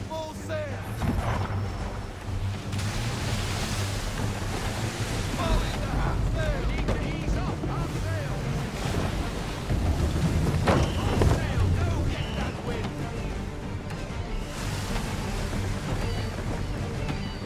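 Wind and rushing waves stream around a sailing ship running under full sail at sea in Assassin's Creed 3, a steady broad roar throughout, with voices speaking over it.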